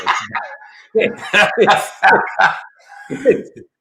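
A dog barks and yips in a short, loud, close-up burst of several quick calls, mixed with people talking.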